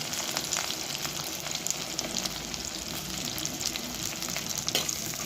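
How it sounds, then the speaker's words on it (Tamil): Chopped big onions and curry leaves sauté in sesame oil with a dense, crackling sizzle and stirring scrapes, loud and close throughout, with no talking. "பெரிய வெங்காயம் 4 கட் பண்ணி கருவேப்பிலை சேர்த்து போட்டு வதக்கணும்"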